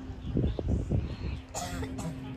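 A few short coughs in quick succession, close and moderately loud, followed by quieter breathy sounds and faint background murmur.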